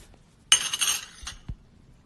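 Salt and turmeric being stirred in a glass of hot water with a metal spoon, giving a burst of bright clinks and scraping for about a second, then two sharper taps against the glass, close up and with no speech.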